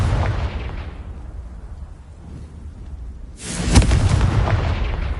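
Confringo spell blasts in Hogwarts Legacy, a heavy rumbling explosion rolling over sustained noise, then a sharp second burst with a bright crack that lingers loudly to the end.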